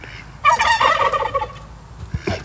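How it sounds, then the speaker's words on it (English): Domestic turkeys gobbling nearby, a loud rattling burst of gobbles followed by quieter clucks and another short call, with no talk. "my turkeys are over here talking."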